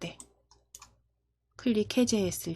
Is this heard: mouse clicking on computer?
yes